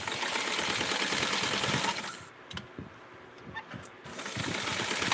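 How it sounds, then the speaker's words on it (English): A sewing machine stitches the top of a small doll's garment, running in a fast, steady mechanical chatter that pauses briefly with a few light clicks before the stitching resumes. "I'm going to be sewing the top and do a semi"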